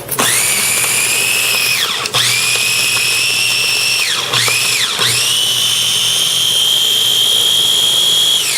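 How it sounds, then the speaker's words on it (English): An electric grinder grinds herbs for a potato and Brussels sprouts curry, a loud, steady high-pitched whine that runs continuously, dipping briefly in pitch a few times as the blades bite, with no talking. "So you're first going to grind the herbs."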